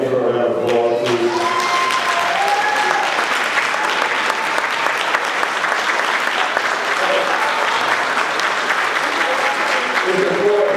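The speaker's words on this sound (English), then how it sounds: "can you just stand up and give her a round of applause, please?" A parent summit audience gives Ms. Leslie a loud round of applause, thick continuous clapping filling the whole stretch, with a brief voice heard at the start and near the close.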